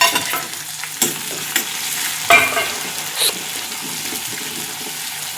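Chopped tomatoes go into a pan of fried onion and sizzle steadily, with sharp bursts as they land and are stirred, close and fairly loud with no talk.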